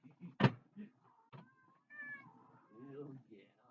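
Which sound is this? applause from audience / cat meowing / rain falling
cat meowing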